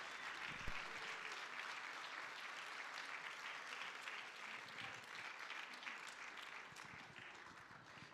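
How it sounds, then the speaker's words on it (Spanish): A church congregation at a Spanish-language family worship service breaks into loud, sustained applause of praise, a dense wash of many hands clapping steadily for several seconds with no talk over it. "Póngase de pie y denle un fuerte aplauso de alabanza para Él."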